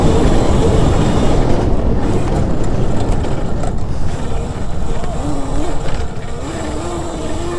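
An Aipas S1 60-volt electric dirt bike rides hard through deep sandy ruts, a loud constant rush of wind and tire roar with a rising and falling motor whine toward the end.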